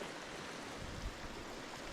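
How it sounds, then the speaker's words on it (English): Fast-flowing river water in a canyon at Deckers in winter gives a steady, broad, rushing wash, close and even throughout with no pauses. "Water might be a little too fast here."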